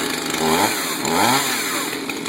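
A chainsaw engine sits at high idle and then drops after a trigger bump, giving a close, buzzing two-stroke drone with two brief rising swells.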